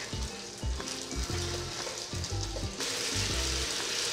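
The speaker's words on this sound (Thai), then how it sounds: "ผัดให้หมูสุกนุ่มนะคะ" Marinated pork stir-fried in a hot pan with banana peppers, a loud close sizzle with rhythmic spatula scrapes and knocks, no voices.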